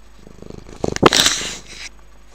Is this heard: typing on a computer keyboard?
no